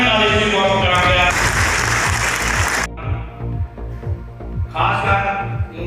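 Applause from an audience at a public gathering swells for about a second and a half as a dense wash, then drops away, with music and a voice continuing underneath throughout.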